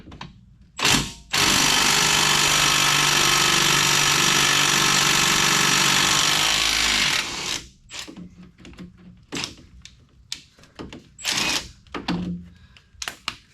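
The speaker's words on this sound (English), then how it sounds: "Busted out the old trusty dusty impact here." An impact wrench works on the brakes of a 2015 Hyundai Elantra, letting out one short burst and then a long, loud, close rattling hammer of about six seconds, followed by scattered clinks and tool handling.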